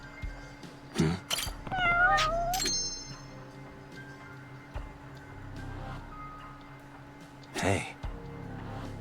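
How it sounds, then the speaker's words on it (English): A cat meows several times in the Judgment video game, short rising cries at a moderate distance with a louder meow near the end, heard over quiet in-game ambience and faint clicks. "Oh, there's a cat."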